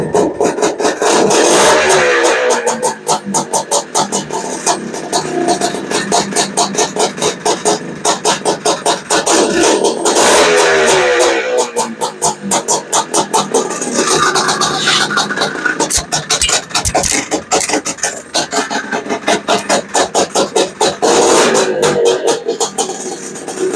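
Honda Odyssey FL350 fitted with a Lectron carburetor, running loud and near, its rapid firing pulses rising in several revs and settling back to idle, with brief scraping noises between.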